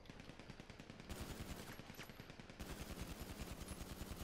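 Rapid automatic gunfire in GTA, fast repeated bursts of shots in a continuous rattling stream, loud and close with no pauses.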